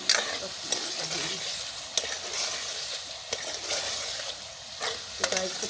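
Eggplant and potato are stir-fried with kalonji seeds in a pan. A soft continuous sizzle runs under sharp, repeated scrapes of the spoon against the pan at an uneven pace.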